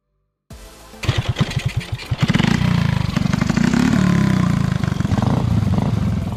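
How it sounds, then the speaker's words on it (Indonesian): A specially modified motorcycle used by banana farmers to haul bananas in a village in Lampung starts up loud and close, firing in sputtering pulses before settling into a steady, rough idle with a slight rise and fall. "Petani pisang di Desa Margodadi biasanya membawa pisang dengan menggunakan motor yang telah dimodifikasi khusus seperti ini"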